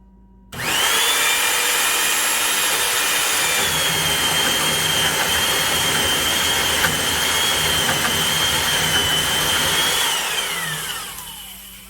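A power drill bores steadily into wood with an Eradicator Professional self-feed bit, a loud continuous whine starting abruptly and holding for about ten seconds before tapering off, with no talk.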